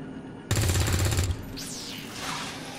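Gun firing in XCOM: a rapid burst of shots lasting under a second, close and loud, followed by faint game sound effects.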